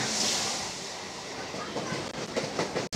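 A suburban passenger train hauled by a WFP-class electric locomotive runs on rails with a steady close rumble and faint rhythmic clicks of wheels over joints, briefly muffled near the end.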